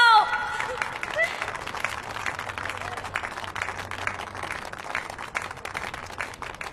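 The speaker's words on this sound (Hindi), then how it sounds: "ताली बजाओ।" A crowd applauds in a dense, steady patter of clapping, loud at first and gradually tapering off, with a murmur of voices beneath.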